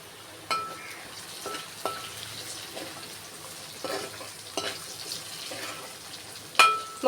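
Raw mango pieces go into a simmering fish curry, a faint bubbling bed broken by several sharp clinks and scrapes of a utensil against the pot, with a louder clatter near the end.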